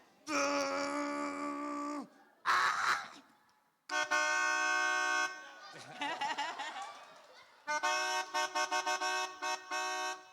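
Horn-like honking tones blown on a pianica (melodica), several sustained reed blasts followed by a run of short staccato toots imitating a car horn, loud and close, with brief spoken bits between phrases.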